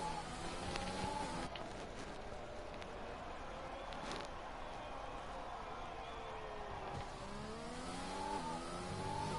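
A racing car engine in a PS4 racing game revs and shifts through the gears along a long sweeping right-hander, rising and falling pitch sweeps heard faintly and continuously.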